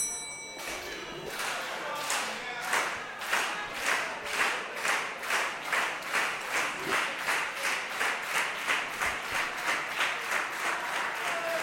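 A split crowd at a women's professional wrestling match claps in a steady, rhythmic unison beat, loud and sustained, with cheering mixed in.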